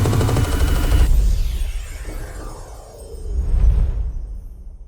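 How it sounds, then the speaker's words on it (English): A generic explosion level transition from the video game Tetris Effect: a loud, dense burst that decays into a sweeping whoosh, then a second swell of low rumble before fading out. "before the generic explosion transition takes you to the next level"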